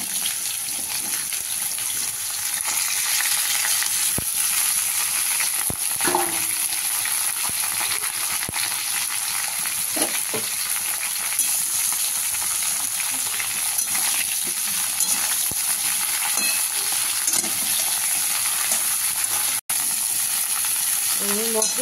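Vegetables dropped into a pan of reddened whole cumin frying in oil, a loud, dense hiss of sizzling that stays steady throughout, with a few faint clinks and stirring taps underneath.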